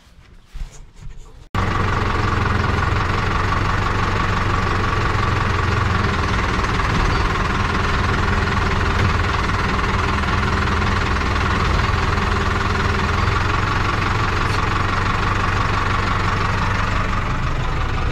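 A Fendt Xylon tractor engine runs steadily while swinging a Rabe Albatros reversible plough, a loud, constant diesel drone that starts abruptly after a brief quieter moment and holds without a break.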